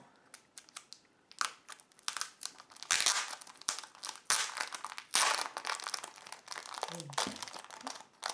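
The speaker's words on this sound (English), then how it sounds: "Just gonna rip it." Plastic packaging of a Hobonichi Ultraman Weeks planner being torn and ripped open up close, a run of sharp crinkles, crackles and rips with brief pauses, fairly quiet overall.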